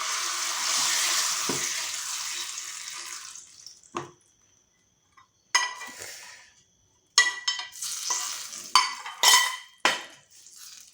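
Fried tempering being mixed into semolina cake batter, with a sizzling pour at first, then a pause and a series of close, irregular scraping and clinking mixing strokes.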